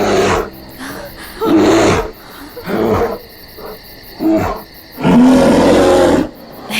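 A monster bear in a horror film roars in several loud, rough bursts separated by short pauses, close and forceful.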